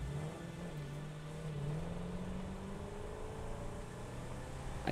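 A vehicle in the video game Satisfactory drives with a steady engine drone and a rising, wavering whine as it turns, plus a faint click at the end.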